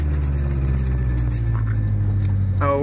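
A 1999 Honda Civic engine with an open header runs nearby with a loud, steady rumbling drone and a brief rise near the end.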